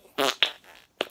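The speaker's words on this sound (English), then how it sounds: "I'll show you the fart putty." Fart putty squeezed by hand lets out three short, loud squelching fart noises, the first longest, with brief pauses between them and no talking.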